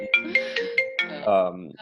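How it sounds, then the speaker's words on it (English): A mobile phone ringtone plays a quick, repeating chime melody up close, with a short sustained tone near the end. "I don't know how my phone just rang"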